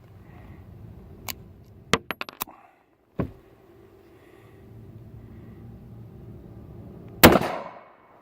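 Sharp, close gunshots from a Savage Model 1907 .32 ACP pistol: a single shot, then a quick cluster of several, another shot, and a final louder crack after a pause, with quiet ambience between.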